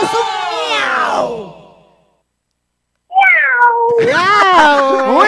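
A person imitates a cat's meow, giving a drawn-out falling meow, then after a short silence a second, longer wavering meow, loud and close, alone without other talk.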